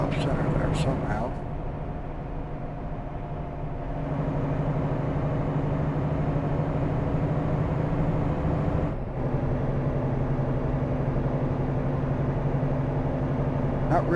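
A steady, droning 505-horsepower Mack Pinnacle truck engine in American Truck Simulator rumbles throughout with little change in pitch, briefly dipping once, under an even hum.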